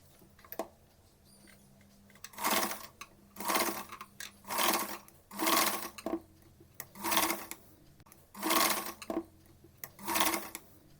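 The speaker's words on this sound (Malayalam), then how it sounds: "അപ്പം നമുക്ക് 2 വശത്തുള്ള ഞൊറിവുകൾ സ്റ്റിച്ച് ചെയ്ത് കിട്ടിയിട്ടുണ്ട്" A home sewing machine stitches the pleats of a cotton cloth face mask, running in about eight loud, steady bursts separated by short quiet pauses.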